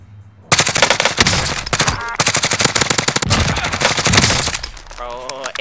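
Loud rapid automatic gunfire in a battle royale video game match, bursts of shots filling most of the stretch with brief pauses, close and dense, with a voice calling out.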